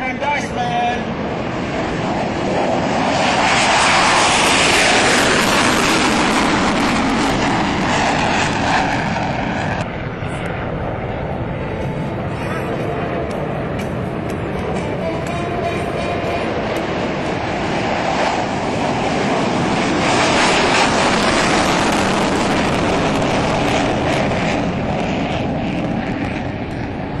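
Fighter jets of the 90th Fighter Squadron, F-15s, fly a US Air Force demonstration in Alaska, a loud sustained roar that swells, fades and swells again as they pass, with an announcer talking over it.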